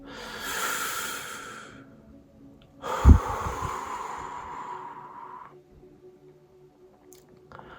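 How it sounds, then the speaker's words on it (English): Deep breaths taken slowly and close up: a long inhale, then a sharp intake followed by a drawn-out exhale, breathy and soft with quiet pauses between. "let's take a deep breath together"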